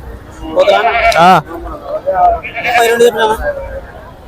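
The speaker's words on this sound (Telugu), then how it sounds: "ఇక్కడ కూడా ఉన్నాయి చిన్న మేక పొత్తులు" Young male goats bleat at the Pebbair livestock market, two wavering, nasal calls close by, set amid crowd chatter and nearby voices.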